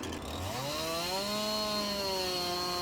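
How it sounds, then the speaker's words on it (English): A chainsaw in the Farming Simulator 19 game cuts through a tree limb, its engine droning steadily and loud throughout, pitch rising slightly as it bites into the wood, slightly rough-sounding, with no talking. "The chainsaw sounds a little rough, but it seems to be running really well."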